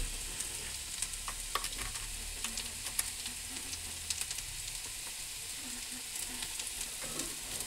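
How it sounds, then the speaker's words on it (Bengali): Ingredients fry in a pan with salt before chow mein noodles go in, giving a steady, moderately loud sizzle with scattered stirring clicks and scrapes. No one speaks. "পাঁচ মিনিট মতো ভেজে নেবো।"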